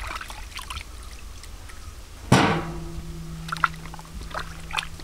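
Beef leg bones being washed in water by hand, a sudden splash and clatter of bone against a vessel, followed by a lingering metallic ring and small scattered drips and knocks.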